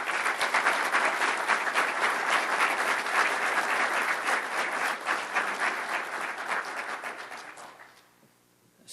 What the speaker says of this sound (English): would everyone please join me in a round of applause